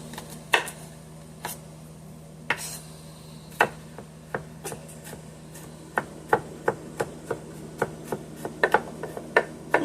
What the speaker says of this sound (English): And I have a garlic clove. I'm just going to chop down fine as well.